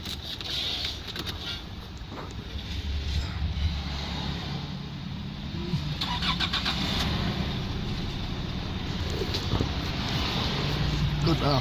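A Nissan Navara D40 dual cab with a YD25 turbo diesel engine starts up and settles into a steady, rough idle that carries on to the end, with some faint background noise and brief cabin sounds over it.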